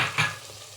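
A brief sizzling crackle as curry leaves drop into a hot, bubbling pan of tomato kurma, flaring up sharply and then settling into a soft hiss.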